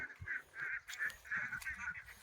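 Farmyard ducks and chickens honking and squawking in a rapid series of repeated calls, fairly faint and close together, with no talk.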